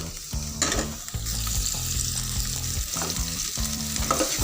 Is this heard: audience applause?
no